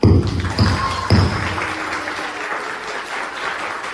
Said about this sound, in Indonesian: tepuk tangan yang keras sekali lagi untuk kesuksesan kalian